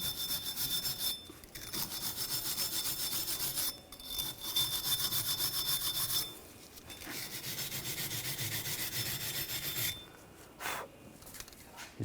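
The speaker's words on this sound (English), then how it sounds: "Just going to do this part by hand with the wire brush." A wire brush scrubs Nissan Rogue rear brake parts by hand in quick back-and-forth strokes, a harsh scratchy rasping that comes in several long bursts separated by brief pauses, close and steady.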